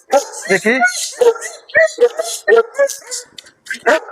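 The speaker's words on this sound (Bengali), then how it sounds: "সারাদিনই কুকুর এরকম ঘেউ ঘেউ করে?" Working-line long-coat German Shepherd dogs at a dog seller in Bangladesh bark, yip and whimper in short repeated bursts, close by, mixed with ongoing talk.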